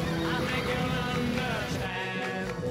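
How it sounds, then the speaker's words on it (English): A horse on a farm gives a loud, wavering neigh that stretches for a couple of seconds, with no talking. "Horse."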